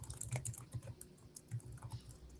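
Quick, light tapping on a computer keyboard, a few bursts of clicky keystrokes close by and fairly quiet, with no talking.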